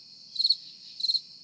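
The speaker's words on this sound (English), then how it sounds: "crickets." Crickets chirp in two short, bright trilling bursts, close and clear against silence.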